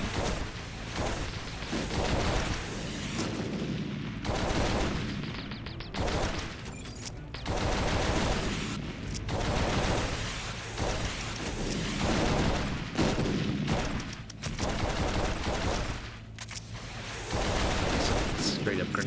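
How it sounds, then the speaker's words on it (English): Shotgun firing in the game WarSphere, a run of loud, beefy blasts in repeated bursts with mechanical handling between shots, mixed with a person talking. "They did not skimp on the shotgun noises."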